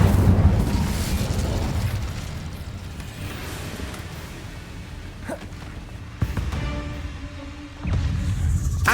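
The Incendio fire spell in Hogwarts Legacy bursts with a deep whooshing boom that rumbles away, followed by smaller pops and crackles as the game's sound effects continue.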